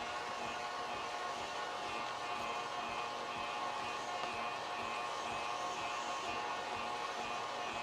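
KitchenAid stand mixer driving an off-brand sausage attachment, a steady loud motor whir with grinding hum holding constant and alone throughout.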